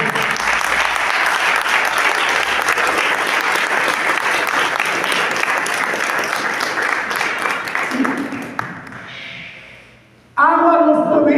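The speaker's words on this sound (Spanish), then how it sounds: "Denles aplauso, fuerte." Loud congregation applause at a Spanish-language church service, a thick sustained roar of clapping that fades after about eight seconds, followed by a brief quiet and then a voice speaking.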